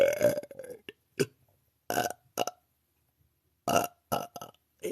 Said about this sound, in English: are the small burps cuter or are the big monster burps?